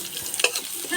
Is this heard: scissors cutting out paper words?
no